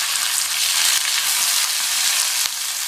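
Small onions fry in hot oil for sambar, giving a steady close-up sizzle throughout with no voices.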